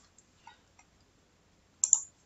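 A computer mouse clicks during laptop maintenance: a few faint, isolated ticks, then a sharper, louder double click near the end against near silence.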